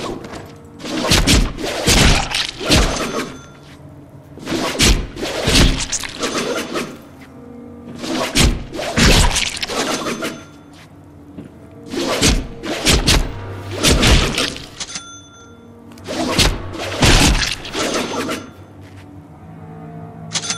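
Deadpool video game combat mixing light and heavy melee attacks, with repeated clusters of punchy thuds and whacks in irregular bursts separated by brief quieter gaps, loud and close with no voices.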